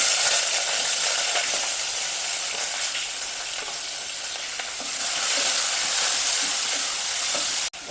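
Onions hit hot oil in a pan for a South Indian moong dal khichdi, giving a loud, continuous, close hiss of frying that holds steady and cuts off abruptly at the end.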